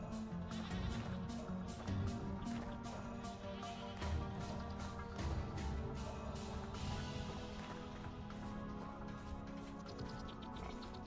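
Several goats in the survival game Vintage Story bleat and cry repeatedly, overlapping in a continuous, fairly loud chorus with rhythmic broadband bursts, as if the animals are milling and running close by.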